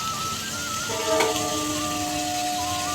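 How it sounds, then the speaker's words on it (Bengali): Steady sizzling of taro and potato frying in a hot pan, an even crackling hiss with a faint tonal whine underneath. "কচু আলু ভাজা হচ্ছে"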